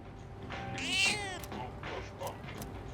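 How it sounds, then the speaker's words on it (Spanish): A cat in the game Persona 3 Reload meows clearly, one long rising-falling meow followed by a few shorter softer ones, close and alone with no talk. "Miau, miau. El gato ronronea enérgicamente, parece feliz."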